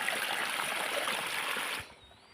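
Water from a motor pump rushing along an irrigation channel toward a maize field, a steady close gushing flow that drops off sharply near the end.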